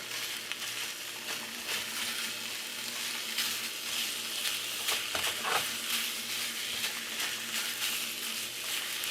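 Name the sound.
ground beef frying and being broken up in a pan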